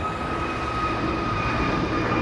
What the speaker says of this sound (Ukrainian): Ось там літак. Оп, і взлітаю.